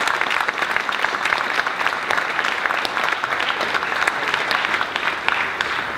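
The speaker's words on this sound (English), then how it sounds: "Give them a round of applause, please." A breakfast audience applauds alumni board members as they stand, a steady, full round of many hands clapping close by for several seconds without a break.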